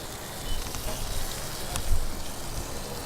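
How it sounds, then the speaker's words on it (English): Bacon sizzles in a seasoned cast iron skillet set on an outdoor grill in a race paddock, giving a steady, crackling hiss at moderate level with a slight swell partway through. "Stu's got the grill going with the cast iron skillet. Got the bacon."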